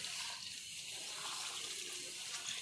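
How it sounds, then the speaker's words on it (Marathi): Water is drawn from a tank at a village home, a faint continuous splashing and trickling heard alone at low level. "हे बघा हौद पाणी कसं काढायला लागले."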